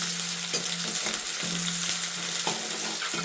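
Onion and garlic sizzle and crackle loudly in a hot pan, with stirring scrapes at irregular intervals and a steady low hum beneath.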